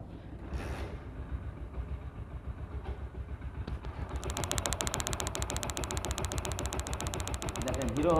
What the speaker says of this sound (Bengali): হিরো হন্ডার অরিজিনাল সাউন্ডে চলে আসছে